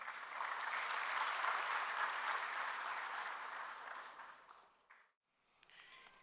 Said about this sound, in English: So let's give a warm round of applause,